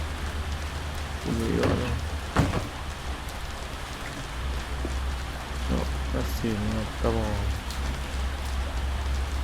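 Steady rain falls with a dense hiss and patter throughout, under occasional brief talk from a man nearby.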